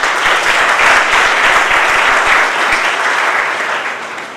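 An audience at a college foundation day ceremony bursts into loud, dense applause that keeps going steadily, fading slightly toward the end.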